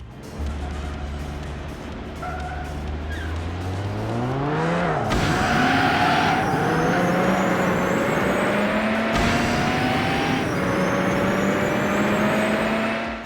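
A car in the PS2 racing game Need for Speed: Hot Pursuit 2 fires its nitro boost, the engine note climbing steeply and surging into a loud, sustained roar with sharp gear-shift jumps and continuous road noise.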